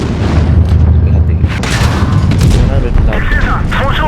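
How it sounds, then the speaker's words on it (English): Tank cannons fire in a tank battle video game, heavy booming blasts over a constant rumbling battle din, loud and close, with a player talking over the action. "Trying to shoot the E100."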